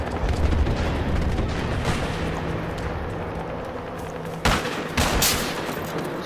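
An RPK light machine gun fires in Battlefield 1, a dense rattle of gunfire with rapid overlapping shots and a few sharper loud cracks near the end, heavy and close, with no speech.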